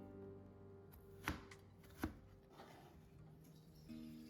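Knife slicing carrot into thin shreds on a cutting board, two distinct sharp chopping taps about a second apart over a faint steady hum, with softer scraping between them.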